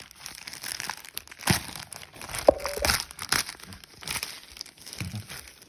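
Crinkling and tearing of plastic and paper packing as a well-wrapped parcel from a Kerry courier is opened, with bursts of crumpling and rustling close by, no talk.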